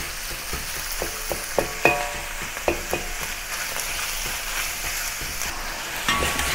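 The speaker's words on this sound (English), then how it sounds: "Let the beef sear for a minute." Strips of beef searing in a hot pan for a Chinese beef and tomato stir-fry, giving a steady close sizzle with scattered sharp crackles and pops, no voices.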